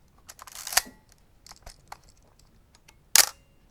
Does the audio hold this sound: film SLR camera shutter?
yes